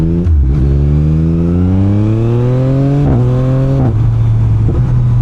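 A loud Yamaha MT-09 SP with an Akrapovič exhaust revs up through rising gear pulls, its deep throaty exhaust note climbing and dropping with each shift, close and continuous.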